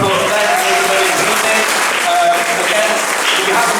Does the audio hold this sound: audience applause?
yes